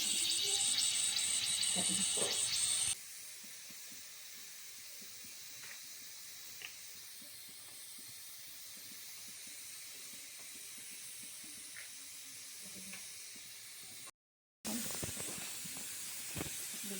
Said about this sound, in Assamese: এয়া মই কুকাৰৰ সাপোখন লগাই দিলোঁ এয়া পোলাও চিটি মাৰিবলৈ ৰাখি দিম